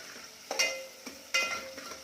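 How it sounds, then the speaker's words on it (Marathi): Onions being stirred in a hot pan for Kolhapuri chicken rassa, two distinct scraping stirs over a quiet, steady sizzle of frying, with no voices. "कांदा छान रंग बदलेपर्यंत भाजून घेऊया"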